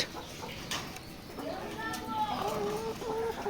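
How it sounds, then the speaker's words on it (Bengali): Parent layer hens cluck and call inside a poultry farm, a steady chorus of bird sounds with a rising squawk near the end, heard close under a faint voice. "এটা হচ্ছে প্যারেন্টস লেয়ার মুরগি"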